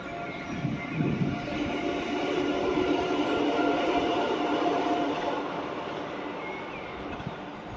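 A train rumbles past nearby, loud and sustained, with a rolling wheel roar and faint rail squeal that swell and then slowly fade, with no talking.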